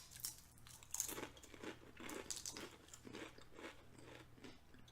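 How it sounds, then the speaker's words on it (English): Close, crisp crunching and chewing of Doritos tortilla chips during a blind taste test, with a run of bright bites and chews that repeat unevenly over several seconds and no speech. "Crunch."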